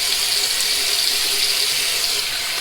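Warm water running from a tap into a bathroom sink before shaving, a steady close hiss and splash that stays even and unbroken for a few seconds, with no talk.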